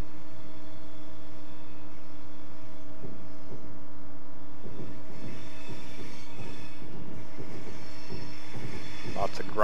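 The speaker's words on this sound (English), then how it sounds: "Lots of grinding on the rails right here." Train wheels grind and squeal against the rails in Train Simulator 2014 on the Northeast Corridor route, a low rumble with repeated rhythmic clatter pulses building toward the end, steady and fairly close.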